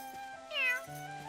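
A cat meows once in the video game The Adventures of Elliot: The Millennium Tales, a short rising-and-falling cry that sounds like a human voice actor imitating a meow, heard clearly over quiet, steady game background tones.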